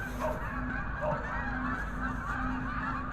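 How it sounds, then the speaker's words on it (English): Geese honk repeatedly in a steady chorus, moderately loud, with a constant low hum running underneath. "Friggin' geese are back."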